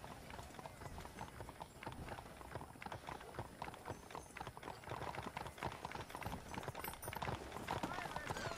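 Horse hooves clip-clop steadily in the Red Dead Redemption video game on PS3, a brisk, continuous rhythm of several horses moving along, with game voices and dense background sound layered over the hoofbeats.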